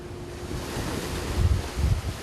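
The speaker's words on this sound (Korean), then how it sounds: "계속해서 집채만한 파도가 원석호를 덮쳐오고" Large ocean waves surge and crash around a fishing boat working at night. A steady roar of wind and surf runs throughout, with heavier low thumps of water striking in the second half.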